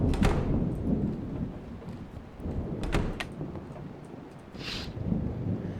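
A thunderstorm rolls through the video game Static Dread, with deep rumbling thunder, a couple of sharp cracks and a low, continuous roar of weather in the background.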